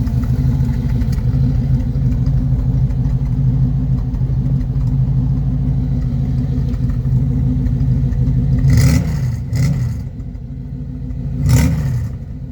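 An ex mail truck with a 1970s Corvette engine and TH350 transmission running, a loud, close, low rumbling idle that holds steady, then a couple of quick revs near the end.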